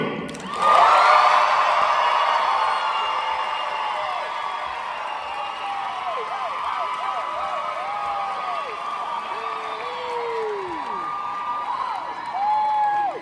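Audience applause and cheering at a Halloween costume contest, a loud burst of crowd noise that swells at the start, then a steady wash of clapping with high whoops and shouts running throughout and rising again near the end.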